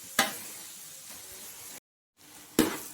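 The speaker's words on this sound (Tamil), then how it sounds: "வெங்காயம் நல்லா ப்ரௌனாகி வரட்டும்" Onions stirred and frying in hot oil until brown, a steady soft sizzle with two sharper bursts of hiss near the start and end, broken by a brief silent gap.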